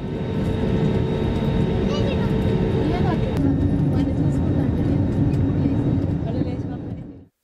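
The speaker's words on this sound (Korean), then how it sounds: "비행기가 오만에서 이륙합니다." An airliner taking off from Muscat, Oman, heard from inside the cabin as a loud, steady broadband engine roar with shifting tones that fades out at the end.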